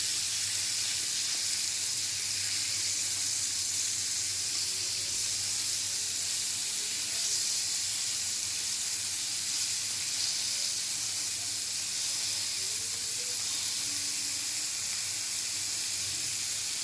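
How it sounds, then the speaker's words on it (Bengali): Fish frying in hot oil in a pan, a steady broad sizzle that runs continuously and fairly quietly, with no pauses or voices. "মাছ ভাজা ওই পিঠে হয়ে গেছে, এখন ফিরিয়ে দেব।"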